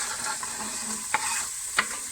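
Chopped carrots sizzle in a pot for vegetable soup, a steady soft frying hiss broken by two sharp clinks of a utensil against the pot.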